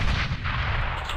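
A grenade explosion in Counter-Strike: Global Offensive competitive play booms loudly and close, a dense, rumbling blast that fills the whole moment without any voices over it.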